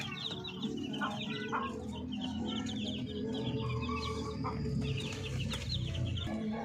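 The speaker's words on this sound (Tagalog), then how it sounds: "Dito naman tayo sa ating mga sisiw mga Pinoy." Chicks peep in high, rapid chirps among clucking free-range chickens in a Filipino backyard flock. The sound is steady and close, with no talk.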